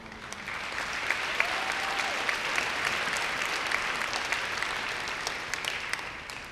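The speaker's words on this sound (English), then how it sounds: "please give yourselves another round of applause for such a major accomplishment." Sustained applause from a graduation audience at the Scholars' Academy Class of 2025 ceremony, a dense, steady wash of many hands clapping at even loudness throughout, with no talk over it.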